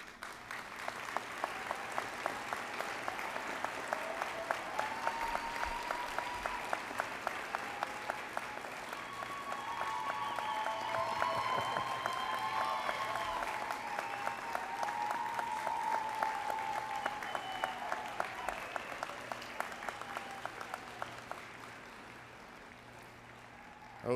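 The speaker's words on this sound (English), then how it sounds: "A round of applause for them again" Sustained applause from a large audience at a 2021 commencement ceremony, steady dense clapping that swells and fades over about twenty seconds, with faint background tones beneath.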